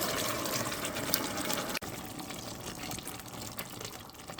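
A container is rinsed with a little water in a home kitchen while a beef and vegetable sauce is being made, a steady close hiss of running, filling water with one short break midway.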